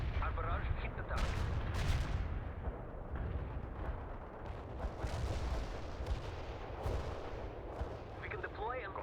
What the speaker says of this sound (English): Artillery commencing the barrage.